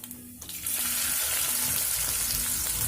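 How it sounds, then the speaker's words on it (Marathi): Mustard seeds and chopped onion hit hot oil after a quiet moment, breaking into a loud, dense, sustained sizzle that fills the rest of the clip without speech. "तेल गरम झाल्यानंतर त्याच्यामध्ये मोहरी चिरे कांदा घेतलेला आहे मी"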